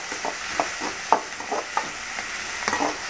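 Mustard seeds spluttering in hot oil for tomato rice, a soft steady sizzle broken by regular sharp pops about every half second, close and alone.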